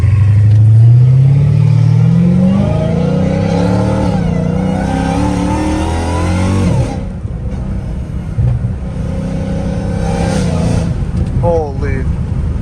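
A straight-piped Dodge Challenger Hellcat Redeye revs hard at night, its loud engine climbing in pitch and then dropping into a rough idle, with people talking over the exhaust.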